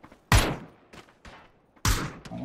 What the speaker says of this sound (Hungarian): Hopp, ide is lőnek, ide is lőnek.